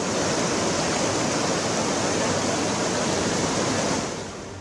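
Floodwater from a swollen monsoon river in Himachal rushes over a submerged bridge, a loud, dense, continuous roar close by that eases slightly at the end.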